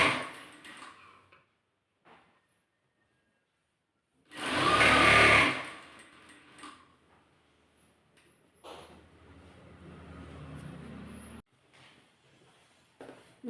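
A sewing machine stitches along the edge of a churidar slit, a short loud whirring burst followed by quieter intermittent running and pauses, close by with no talking.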